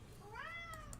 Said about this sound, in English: He's just meowing louder.